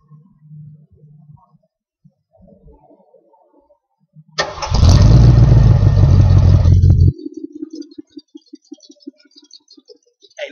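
A 1975 Ford Ranchero with a 6.6 liter V8 and Thrush glass packs fires up with a loud, deep exhaust rumble lasting a few seconds, then settles into a lighter, rhythmic putter after quiet clicks before.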